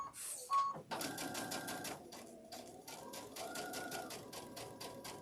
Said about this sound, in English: I'm just going to do a stitch in place here.